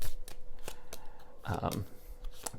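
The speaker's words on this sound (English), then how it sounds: "I was just like so gung-ho with this shuffling" Tarot cards being shuffled by hand at a pick-a-card reading: soft papery riffles and taps recur through the short clip, peaking in one denser burst of shuffling midway, close and fairly quiet.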